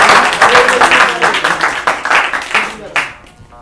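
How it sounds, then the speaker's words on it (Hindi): Studio audience applause at an Urdu literary quiz programme, a dense patter of many hands clapping steadily for about three seconds, loud and close, tapering near the end. "हमारे लिए भी ताली बजाइए।"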